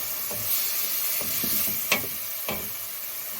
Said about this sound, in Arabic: صافي خليها تقلى مزيان